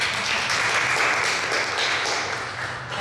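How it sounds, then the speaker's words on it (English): Steady applause from an audience at a film archive opening ceremony fills the space for about three seconds, broad and even without any pause. "One applaud to Nicola."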